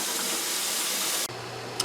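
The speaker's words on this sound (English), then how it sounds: "So we are in. I'm going to put the lid on." Steam canner holding jars of apple butter hisses steadily, then a lid is set on with a soft thud that cuts the hiss to a low hum, followed by a small metallic clink; close, no talk.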